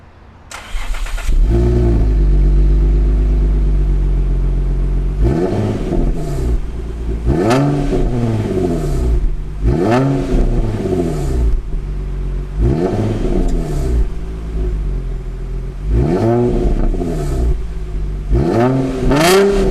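An Infiniti FX35 3.5-litre V6 engine starts and then revs hard in five or six repeated bursts, each rising and falling back to a steady idle, loud and close.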